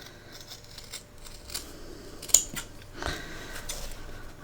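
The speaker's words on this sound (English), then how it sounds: "you need to trim it back." Scissors trim fabric at the corner curves of a sewing pattern, giving a few close, quiet snips and crisp cuts against a soft room background.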